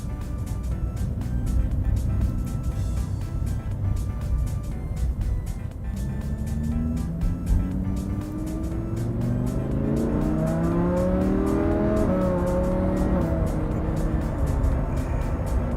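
A Lamborghini Huracán sports car pulls away and accelerates, its engine note climbing steadily through rising sweeps over a constant loud road and engine rumble, heard from inside the car.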